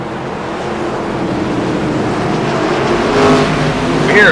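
ARCA race cars rumble around Nashville Fairgrounds as the field gets going, a broad, steady engine roar from a distance that swells slightly near the end, with no clear talk over it.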